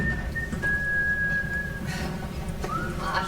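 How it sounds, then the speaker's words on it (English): A person whistles a long steady note, then a short rising phrase, during a stage performance of Chekhov's Three Sisters, heard over a murmuring room. "don't whistle"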